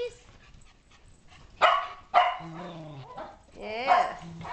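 Shetland sheepdog puppies and dogs play indoors in a great room, giving two sharp close barks followed by yips and a whimpering whine, with faint background sounds between.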